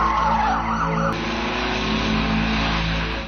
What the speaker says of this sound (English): their dashcam captured a car speeding dangerously down the road